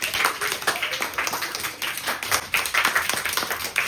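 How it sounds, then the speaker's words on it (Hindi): Clapping for a child at home after he wrote out exam answers, uneven bursts of hand claps from a small group, fairly close and moderately loud. "तालियां रुकनी नहीं चाहिए।"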